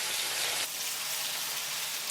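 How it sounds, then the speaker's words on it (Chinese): A chicken thigh laid skin-side down in about 10 ml of hot cooking oil in a heated flat pan sizzles loudly and steadily, with a dense hiss for the whole brief moment. "把一个平底锅加热，倒入约10毫升的炒菜油，鸡皮那面冲下，"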